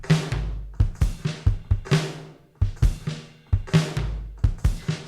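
Two electronic drum kits layered together in a song production play a steady groove of booming kicks and crisp snare and hat hits, loud and close with no voices.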